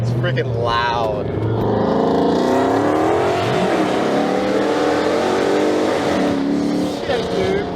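A Dodge Charger with long tube headers revs hard, its loud, raspy exhaust climbing and falling through several throttle blips up close, with voices briefly audible.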